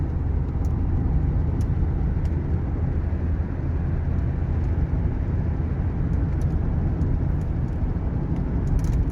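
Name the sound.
1989 Lincoln Town Car driving, wind noise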